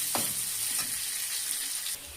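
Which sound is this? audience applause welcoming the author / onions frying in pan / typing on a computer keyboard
onions frying in pan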